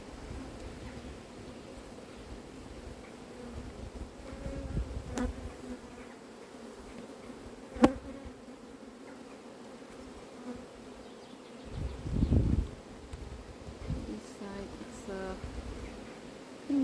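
Honey bees buzz steadily around an open beehive during an inspection of frames, a continuous near hum with a few sharper rustles and knocks.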